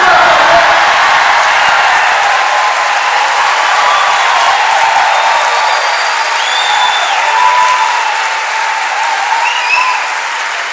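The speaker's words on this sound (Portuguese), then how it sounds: "Se você crê, dá glória e aplaude." A church congregation breaks into loud, sustained applause during a sermon, a dense wash of clapping hands that fills the room for about ten seconds before easing slightly near the end.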